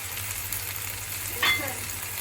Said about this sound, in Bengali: আর এখানে দেখেন নান রুটিগুলো ভাজতে হয় একদম ইয়ে করে, একটু সময় নিয়ে নিয়ে ভাজতে হয়